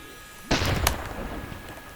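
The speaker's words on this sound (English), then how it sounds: "I fire the yellow cannon." A yellow cannon in the video game Bee Swarm Simulator fires with one sudden loud boom and crack, followed by a brief fading rumble.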